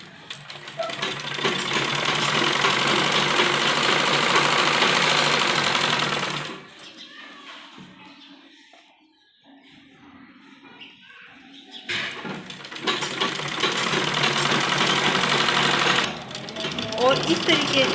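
A sewing machine stitches the folded 1 to 1.5 inch waistband casing (nefa) along the edge of a semi-Patiala salwar. It runs loud and steady for about six seconds, pauses in near silence, then resumes for another long continuous run.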